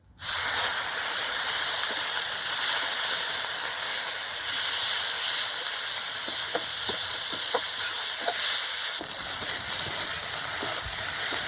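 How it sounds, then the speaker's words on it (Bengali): Onion paste frying in hot mustard oil for a Bengali rui fish curry, a continuous close sizzling hiss with a few soft scraping stirs toward the end. "পেঁয়াজটা লাল করে ভেজে নিয়েছি"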